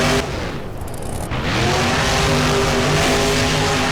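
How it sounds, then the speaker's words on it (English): A monster truck engine roars in a BeamNG freestyle racing game, a loud, sustained, throaty drone with a steady revving tone that holds unbroken from start to finish. "Engine roaring as they head up the other side of the racing lane"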